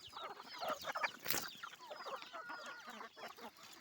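Chickens on a small chicken farm cluck and chatter while pecking at grain, several birds overlapping in quick, soft calls at a fairly low level, with one brief louder squawk.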